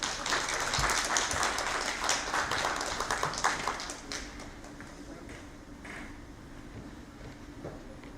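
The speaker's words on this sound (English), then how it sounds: "A warm round of applause, please" Steady applause from a conference audience at the Third Chennai Advanced Diabetic Foot & Wounds Conference, filling the hall loudly at first and easing to a lighter, thinner clatter of claps after about four seconds, with some murmured voices underneath.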